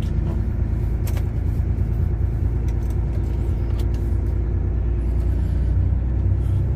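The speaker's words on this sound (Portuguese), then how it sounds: "Para muito caminhão aqui." Heavy road rumble from trucks and vehicles passing at a roadside stop in Paraguaçu, Brazil, loud and continuous with low engine drone and a brief air-brake hiss near the end.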